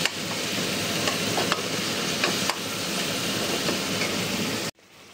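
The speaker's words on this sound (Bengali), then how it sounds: "এই যে এখনো ফুলকপিটা কষানো হচ্ছে, একটু জল বেরাচ্ছে" Cauliflower sautéing in a pan with green chili, ginger and garlic, a steady loud sizzle with occasional stirring scrapes, running continuously before cutting off near the end.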